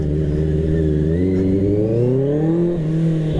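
A 2024 QJ Motor QJ 600 RR sport motorcycle accelerates hard in first gear, its engine note climbing steadily in pitch as revs rise, loud and close throughout, with a brief shift near the end.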